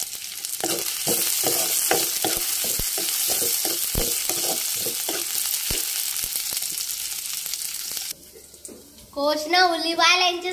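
Sliced onions frying in oil for chicken biryani, a constant bright sizzle with stirring clicks for about eight seconds before it drops away and a person starts talking.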